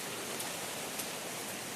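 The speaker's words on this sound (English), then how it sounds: "it's still raining cats and dogs" Rain falls on a forest trail on the Cataloochee loop as a steady, moderate hiss with faint scattered drop ticks, even and continuous with no voices.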